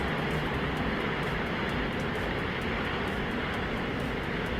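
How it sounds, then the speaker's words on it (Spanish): Deep, continuous roar of a SpaceX Starship lifting off with all 33 engines firing, a dense, steady wall of rumbling noise filling the whole stretch without a break. "Todos los motores encendidos, todos los motores, los 33 motores."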